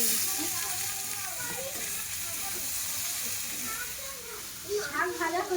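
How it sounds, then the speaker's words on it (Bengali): Noti saag greens frying in a pan with garlic and dry red chilli give a steady close sizzle and hiss, with stirring and a voice talking over it. "শাক ভাজা করছি"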